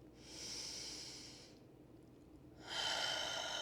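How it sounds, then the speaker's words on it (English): Two long, loud breaths from a person doing a hip and back yoga routine, a slow inhale and then a forceful exhale, each drawn-out airy rush filling the quiet room with a short pause between them. "Take a breath."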